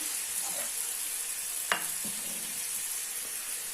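Bacon sizzles and crackles steadily in a hot frying pan, with a sharp metallic clink of a utensil partway through.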